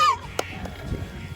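Domestic geese honking in a noisy backyard flock, a few harsh calls near the start, then a low, jumbled chatter of honks continuing close by.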